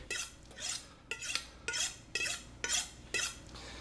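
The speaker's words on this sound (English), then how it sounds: "Anytime I'm getting ready to use my knife, I'm always gonna make sure that I hone my knife to make sure that the blade is straight." Kitchen knife drawn along a honing steel, six evenly spaced bright metallic swipes about half a second apart, close and clear with no voices.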